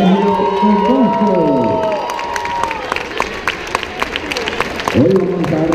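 An audience at a school gaita music festival claps and cheers loudly, with shouts and sustained applause that fades into scattered claps before a fresh swell of cheering.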